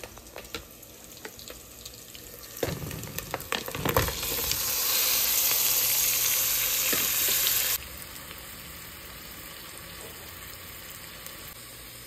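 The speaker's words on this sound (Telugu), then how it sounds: "ఇప్పుడు పాయావికి సంబంధించిన కాళ్ళు ఉన్నాయి కదా, ఇవి తీసుకొని దాంట్లో వేసేద్దాము." Washed mutton trotters for paya drop into a hot pan and sizzle, a loud hiss rising after some clatter and lasting several seconds before dropping to a quieter simmer; no talking.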